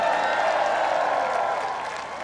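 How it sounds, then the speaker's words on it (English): An audience claps and applauds at an outdoor speech in Ballina, Ireland, a dense wash of many hands that holds steady and then begins to fade toward the end. "you can clap for him, man."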